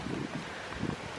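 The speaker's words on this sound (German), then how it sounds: "Und es ist ein bisschen windig." Gusty wind blows outdoors beside a pool, a steady broadband rush and buffet across the mic with a few brief stronger gusts, no voices.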